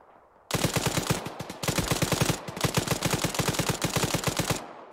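Rapid automatic gunfire rattles in a military shooter game, long dense bursts of fast repeating shots with only brief gaps between them, loud and close.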